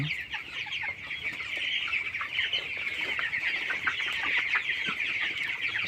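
Broiler chickens on a poultry farm cluck in a steady, dense chorus while they eat and drink, with many birds calling at once and no talk over them.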